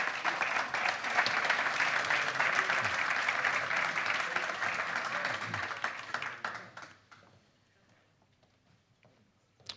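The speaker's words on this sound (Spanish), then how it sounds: "Un aplauso," Sustained applause from a seated audience welcoming speakers at an economic forum, full and steady for about six seconds before fading into quiet room noise with a few scattered claps.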